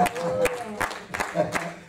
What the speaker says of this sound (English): Come on, clap for Jesus.